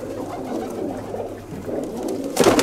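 Pigeons bred for flying, kept by a fancier on Santorini, coo with soft, low, continuous murmuring that grows louder near the end.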